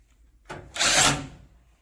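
A screw is driven home on the panel of a small LG drum washing machine during a power-fault repair, making one brief, close grinding rasp that swells and fades within about a second.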